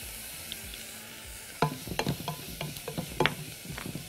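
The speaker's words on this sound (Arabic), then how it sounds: "شوحها كده شوية في الزيت مع شوية ملح" Chopped onion sautés in oil with a little salt: a soft steady sizzle at first, then close scraping and clattering stir strokes from a spoon in the pan through the rest, with no voices.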